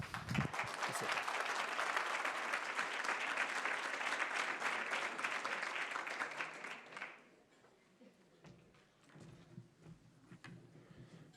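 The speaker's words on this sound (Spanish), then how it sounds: "Es un gusto comenzar un discurso con un aplauso así." An audience applauds at an International Energy Agency World Energy Outlook 2022 presentation as the Club de la Energía president takes the stage, with dense, sustained clapping of many hands for about seven seconds, then a sudden fade to quiet room noise and faint stirring.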